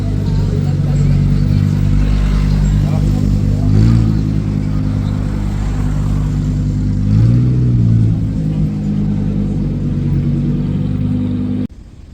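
Porsche 718 Spider sports car passing close by amid other car-spotting traffic, its engine a steady loud drone that swells briefly twice as it goes, with talk nearby.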